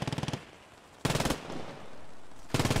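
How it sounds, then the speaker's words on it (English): Rifle and machine-gun fire in the WWII shooter Post Scriptum, fired up a stairwell in rapid bursts: a quick rattling volley, a pause, another burst, then a third starting, fairly close and sharp with no talking. "Dorf out here is just taking little pot shots up the stairs"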